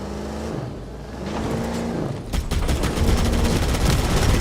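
Gunfire in a Halo Campaign Evolved remake, a rumbling engine-like drone giving way after a couple of seconds to a loud, rapid stream of automatic shots that carries on to the end.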